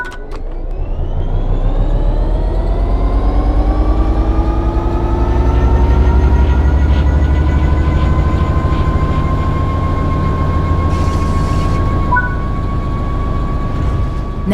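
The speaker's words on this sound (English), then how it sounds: "Apply some throttle to get the train moving." A heavy engine hum rises gradually as a train picks up speed in the video game Train Sim World 3, tones climbing slowly and smoothly, loud and close with a rumbling low end.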